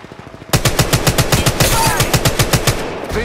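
Rapid automatic gunfire in the battle royale game Apex Legends Mobile, playing as Octane: a loud, close, evenly paced burst of about twenty shots that stops abruptly, followed by a short quieter tail.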